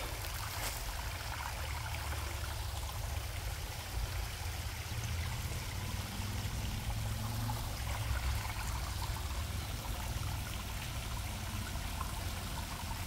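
A small stream of water flowing steadily in a continuous, even babble, fairly close, with no voices over it.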